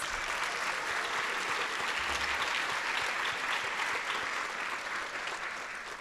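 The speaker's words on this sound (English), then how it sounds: "Let's give these new members a round of applause." Steady audience applause at a high school honors society tapping ceremony for new members, a dense, continuous wash of many hands clapping throughout, slightly fading near the end.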